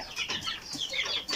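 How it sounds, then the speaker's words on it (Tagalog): Several 25-day-old chickens cluck softly and irregularly, faint and close together, with no talking. "so ito na po yung ating mga alagang manok."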